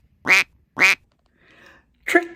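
A duck sound effect gives two loud, nasal quacks close together, a faint muffled call, then a third quack, with silence between them.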